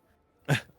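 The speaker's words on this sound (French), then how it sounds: "c'est un chien galeux, mais il est sympa dans le fond." A single short dog bark, close and fairly loud, rising out of near silence and fading quickly.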